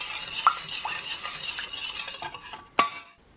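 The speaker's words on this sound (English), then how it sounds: "And just give that a stir together." Sugar stirred into a lemon panna cotta mixture, a spoon scraping steadily around the pan for a few seconds and ending with one sharp clink against the rim, close with no voices.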